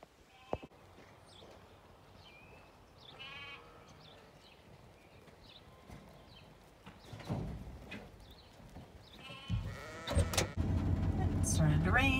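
Sheep bleating on a sheep dairy farm, several calls scattered through the stretch, with a few hoof clops and louder rustling and handling noise building toward the end; moderately distant and fairly quiet overall.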